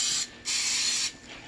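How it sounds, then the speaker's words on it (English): Olive oil is sprayed onto pastry turnovers in two quick close hissing bursts separated by a short pause. "I'm going to spray this one with some olive oil"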